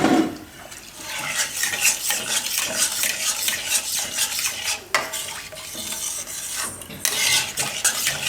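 A spoon stirs and mixes sizzler sauce in a pan. Repeated scraping and clinking of metal on the pan runs over a soft sizzle, with a few sharper knocks along the way.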